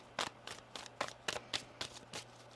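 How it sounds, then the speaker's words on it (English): A tarot deck is shuffled in a quiet room, giving about eight crisp riffling card bursts at a steady, quick rhythm, soft and close. "One more shuffle here."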